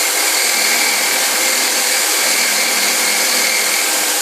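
A steel chisel's primary bevel ground at about 25 degrees on a powered grinder gives a loud, continuous high-pitched whir and hiss that holds steady without a break.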